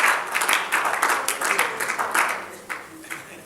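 A church congregation applauds loudly, dense sustained clapping with scattered louder bursts, fading slightly toward the end.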